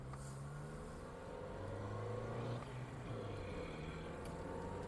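The engine of a 1982 Honda Civic on a test drive hums from inside the car at low level, rising and falling gently as it accelerates, with road and wind noise around it.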